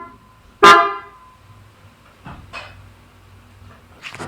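A 2021 Suzuki S-Presso sounds its horn in one strong, deep blast with a truck-like tone, followed by a couple of softer, shorter toots and faint background noise.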